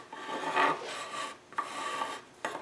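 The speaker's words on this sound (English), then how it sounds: "I've been using scraper blades, files, and so on to get that glue out of that corner." Files and scraper blades rasping against hardened glue in the corner of a wooden drawer, with three separate scraping strokes, close and moderately loud, with no talking.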